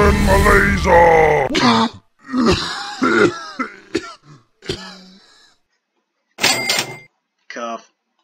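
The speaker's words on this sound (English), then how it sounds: "Cough." A character in the Henry Stickmin airship-infiltration game coughs and groans in several close, voiced bursts separated by short pauses.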